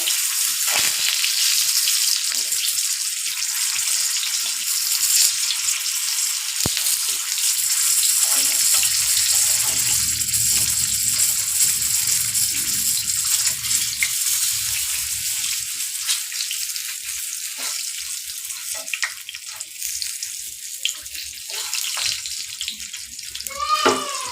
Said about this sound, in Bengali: আপেলগুলো ভালো করে ভেজে নেবো।